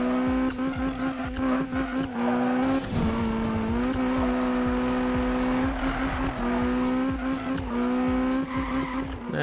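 A front-wheel-drive car in the 2015 Need for Speed racing game drives hard, its engine droning steadily while tires squeal repeatedly through skidding turns, loud and continuous with no talking.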